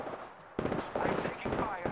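Automatic gunfire in Apex Legends, bursts of rapid crackling shots starting after a brief lull and continuing in two clustered volleys, loud and close, with voices talking over them.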